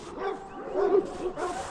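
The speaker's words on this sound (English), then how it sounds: "As the neighbor's dogs are coming back in." Several neighbouring dogs bark and yip in short bursts close by, a few overlapping barks over about two seconds with no talk.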